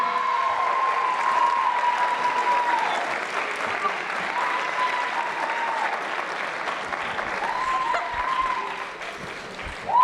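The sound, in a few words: audience applause at a high school sports awards ceremony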